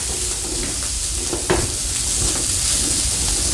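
Ingredients for a hamburger soup with potatoes cook in a pot, making a dense, even hiss and bubbling sizzle that holds steady throughout, with one brief knock partway in and no talking.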